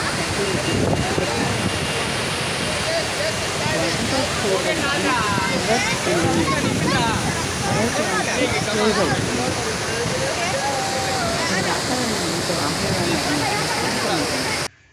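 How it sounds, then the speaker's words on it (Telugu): Bogatha waterfall in Telangana roars steadily with a constant rushing wash of water, while many voices chatter and call out over it. "వాటర్ ఫాల్స్ చూడడానికి"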